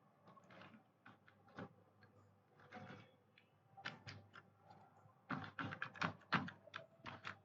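Keys clatter on a computer keyboard as someone types out a C++ program, irregular bursts of close, crisp clicks with short pauses between, growing denser and louder toward the end, no talking.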